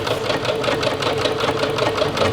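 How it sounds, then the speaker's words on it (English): Sewing machine stitching through the layers of a quilted pillow cover at a lengthened quilting stitch, a steady rapid mechanical whirr with a continuous even rhythm, close and alone. "just sew on these lines as best as you can"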